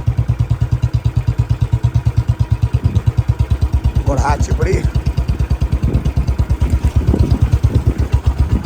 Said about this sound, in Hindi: मोटरसाइकिल कतौ टपा दै छियै